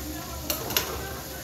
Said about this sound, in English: Stir this macaroni.